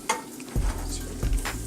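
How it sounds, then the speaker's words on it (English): Butter melts in a pan over medium heat for a mint cream sauce, a soft sizzle broken by two low scraping stirs of a spoon against the pan. "Make sure we melt the butter fully."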